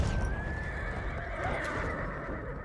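A horse in the video game Battlefield 1 whinnies with a thin, rising cry over dense, continuous battlefield noise and rumbling hoofbeats.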